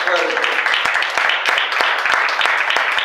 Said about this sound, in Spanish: Denle un aplauso al Señor por lo que usted acaba de declarar.